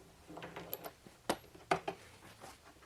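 Socket ratchet on a 21mm nut holding the pulley of a DeWalt 735 planer, giving a few sharp, close metallic clicks and clacks spaced irregularly over a quiet workshop background.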